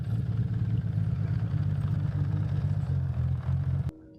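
A Honda CBX 1000 motorcycle engine runs steadily at idle, a low, even rumble held close and loud for nearly four seconds before cutting off abruptly to near silence.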